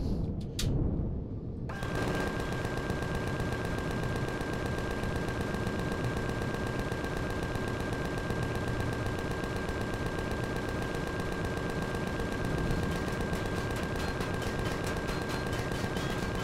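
Continuous, dense rapid-fire blasting from an ion cannon in the game Empyrion, loud and sustained, with a steady high electronic tone running underneath after a brief quieter opening.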